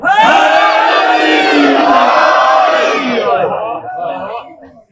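A packed crowd at a Muharram majlis gathering in an imambargah roars a religious slogan in unison, loud and sustained for several seconds before fading away at the end.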